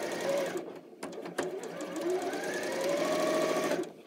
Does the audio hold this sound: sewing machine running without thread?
yes